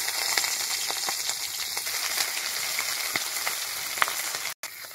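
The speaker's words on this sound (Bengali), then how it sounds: "কড়াইতে অল্প করে তেল দিয়ে আমি মাছগুলোকে প্রথমে ভেজে নেব।" Turmeric-coated prawns fry in a little hot oil in a kadai with a dense, constant sizzle and scattered crackling pops, close and loud, with a brief drop near the end.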